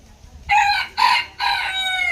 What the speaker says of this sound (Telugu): ఇవి అడవి కోళ్ళు అండి